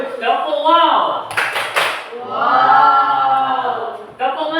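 In a classroom clapping chant, a quick cluster of loud, sharp claps lands between stretches of sung and spoken voices.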